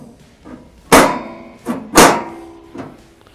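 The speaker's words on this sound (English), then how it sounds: "Then we can take our grill grate," Metal grill grate being set into a Masterbuilt portable charcoal grill during assembly: two loud metallic clanks close together, followed by a few softer knocks and rattles, close by with no talk.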